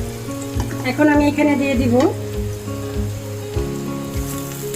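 Tilapia fish head frying in hot oil with a little salt, a steady close sizzle and crackle running throughout while a person speaks over it.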